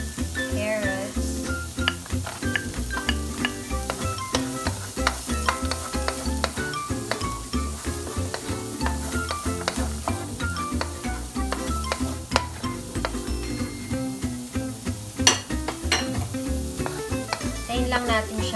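Carrots stir-fry in an oiled pan for quinoa fried rice, with a steady sizzle and a spatula scraping and tapping in a quick, irregular rhythm throughout, close and clear.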